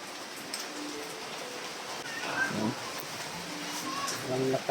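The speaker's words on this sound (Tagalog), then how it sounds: "Ang lakas ng ulan" Heavy rain pours down outside a house, a steady hiss of drops on surfaces, with people talking faintly in the background.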